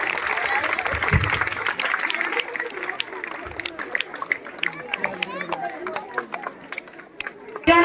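A crowd at a government high school annual function claps in a sustained burst of applause, with murmuring voices and scattered sharp claps tapering off toward the end.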